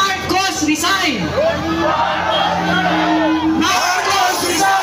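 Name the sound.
rally crowd chanting Marcos resign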